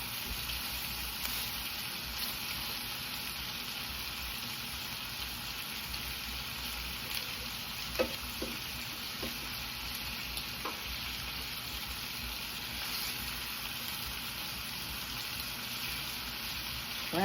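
Shrimp frying in a pan, a continuous dense sizzle and crackle heard close up, with a few faint clicks of utensils partway through and no talking.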